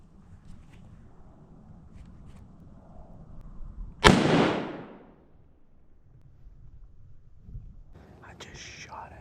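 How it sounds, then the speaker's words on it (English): A single rifle shot fired while deer hunting in Pennsylvania woods, one sharp loud crack with a short decaying rumble, standing out against quiet outdoor ambience and faint whispered talk. "I just shot at him"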